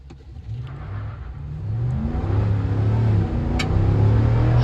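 A supercharged 6.2-litre 2024 Ram TRX pickup with an eight-speed automatic accelerates hard to 60, its engine roaring louder and rising in pitch through the gears, close and continuous with no talk.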